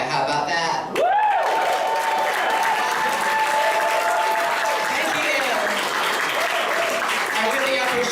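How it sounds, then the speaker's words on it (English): A Toronto crowd applauds and cheers a stand-up comedian on stage, with sustained loud clapping and cheering and a voice speaking over it. "I really appreciate the applause"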